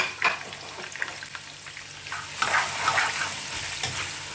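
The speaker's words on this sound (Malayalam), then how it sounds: "ഇതെല്ലാം ആഡ് ചെയ്തിട്ട് നമുക്കതിനെ മൂപ്പിച്ചെടുക്കാം. നന്നായിട്ട് ഇളക്കി കൊടുക്കുക." Ginger, garlic and green chilli fry on high heat for a Bombay beef curry, with a crackling sizzle and repeated scraping stirs of a spoon against the pan, close and fairly loud, and no voices.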